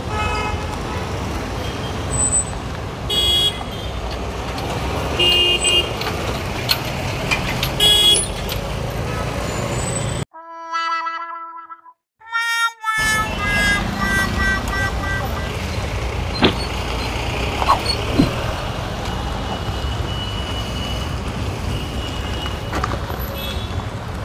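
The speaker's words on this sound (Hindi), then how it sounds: "भाजपा की गाड़ी है जो उधर से निकली जा रही है" A vehicle passes on a busy street in Dehradun amid steady traffic noise, with a horn toot and a brief drop-out in the middle of the continuous road rumble.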